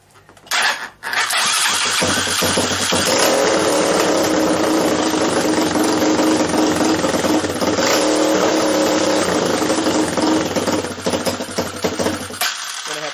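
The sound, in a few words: minibike engine running during carburetor mixture tuning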